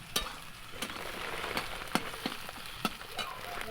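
Food stirred in a frying pan while making chow mein: a steady low sizzle with repeated sharp scrapes and clinks of the spatula against the pan at irregular intervals.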